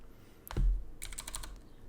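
A computer keyboard tapped to enter an amount for a tax prep fee: one heavy thump, then a quick burst of several light clicking keystrokes, close and clear with no talking.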